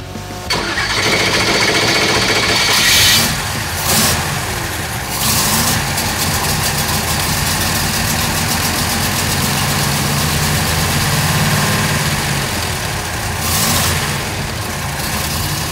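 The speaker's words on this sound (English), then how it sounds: "it's time to take this Poncho to the dyno and see what she's capable of" A stroker Pontiac V8 with throttle-body fuel injection runs on a dynamometer, a loud steady engine roar that holds through the whole stretch with a couple of brief rises in revs, and no talking.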